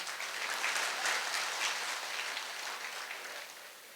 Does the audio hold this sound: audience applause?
yes